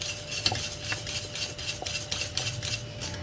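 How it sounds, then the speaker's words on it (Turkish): A spoon stirs béchamel sauce with melting kashar cheese in a pot, making soft, repeated scraping strokes at a steady rhythm over a faint background hum. "Karıştırmaya devam ediyorum kaşarlar eriyene kadar."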